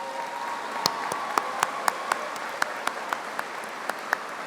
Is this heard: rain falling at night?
no